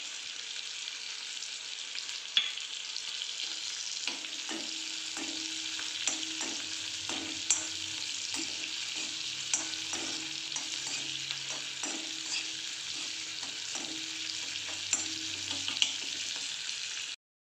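Green chillies fry in a pan with a steady, close sizzle, while a spoon stirs them in repeated scraping strokes and clinks. No one talks.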